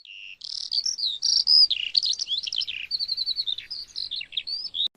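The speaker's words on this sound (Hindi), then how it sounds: "मैना, स्टारलिंग," Common myna, a starling, calling in a lively string of sharp, varied whistles and chirps, loud and close, the notes tumbling rapidly one after another with barely a pause.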